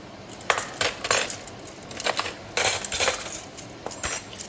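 Metal spoons, forks and knives clink and jingle in short bright bursts as they are gathered and put away during a cleaning job, close up with no voices.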